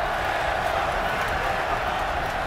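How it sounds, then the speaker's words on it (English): A huge Russian contingent in a Strikeforce MMA arena chants Fedor Emelianenko's name during his fight with Antonio Silva, a dense, steady roar of crowd voices. "The crowd, of course, a huge Russian contingent, Gus, chanting the Fedor name."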